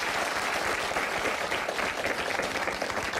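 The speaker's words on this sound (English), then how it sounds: "Give her a round of applause." A television studio audience applauds for several seconds, a dense, steady wash of clapping from many hands with no break.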